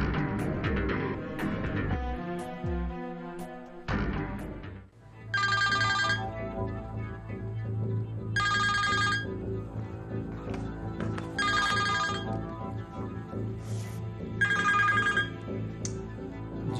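Telephone ringtone repeating in four clear bursts over a steady background hum, each burst a bright electronic melody, starting after a brief low rumble and continuing for several seconds.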